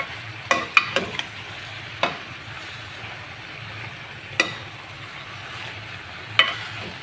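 Sambar powder, coconut powder and chilli are stirred into cooking vegetables in a pot, giving a soft background sizzle broken by a few sharp scraping clanks of a spoon against the vessel.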